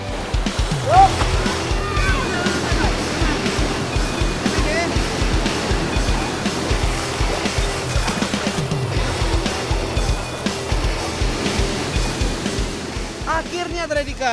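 Waterfall at Timbulun rushing steadily as broadband water noise throughout, with people talking over it.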